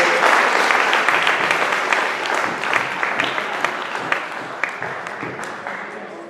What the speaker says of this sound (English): Right, Alessandro, let's give him a round of applause.